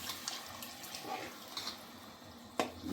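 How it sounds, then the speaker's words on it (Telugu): Water poured into a cooking pot of gongura mutton with tamarind, a soft steady trickle and splash running for a few seconds, close by, with a brief louder splash near the end. "కొంచెం వాటర్ పోస్తున్నాను"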